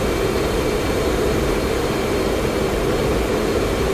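An FA-18C Hornet jet engine roars in the DCS World flight simulator, a steady, loud, broadband rumble and whine held at high thrust throughout, with no voices over it.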